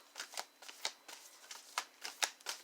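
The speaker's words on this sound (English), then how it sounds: "I'm going to do one more shuffle" A deck of tarot cards is shuffled by hand, giving quiet, close riffling bursts and crisp slaps that arrive about nine times at an uneven pace, with no talking.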